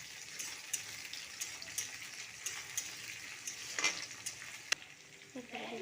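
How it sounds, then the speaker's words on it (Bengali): Green chilies go into oil with chopped onion, bay leaf and nigella seeds, giving a soft, steady sizzle. Scattered clicks of a stirring spoon sound throughout, with a sharper tap near the end. "এরপরে দিয়ে দিচ্ছি কাঁচা লঙ্কা"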